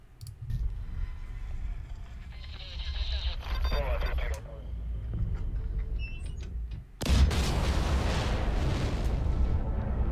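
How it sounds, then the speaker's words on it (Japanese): A deep, loud explosive blast erupts behind the listener after a stretch of rumbling PS5 game action with scattered clicks and whooshes, its roar spreading wide and sustained. "この爆発っていうのも自分の真後ろに聞こえますし"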